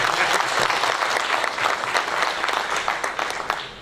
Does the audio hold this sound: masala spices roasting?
no